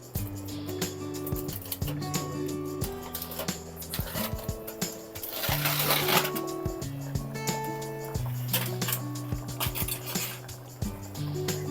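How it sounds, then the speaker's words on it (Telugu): Mutton curry being stirred in a clay pot, with repeated clinks and scrapes of a utensil against the pot in an uneven rhythm, fairly close, over background music and no speech. "ఒకసారి కలుపుకుందామండి ముక్క అనేది ఉడికిందో లేదో చూసుకుందామండి"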